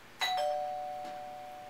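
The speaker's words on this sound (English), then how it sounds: "And that's the doorbell, so I'm going to end anime analysis." A single electronic doorbell chime rings out clearly, its tone lingering and slowly fading in an otherwise quiet room.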